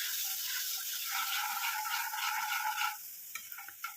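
A spoon scrapes and swirls through liquid in an iron pan for about three seconds, then stops, leaving a few light clinks.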